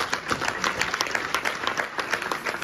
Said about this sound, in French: nous acclamons notre Dieu.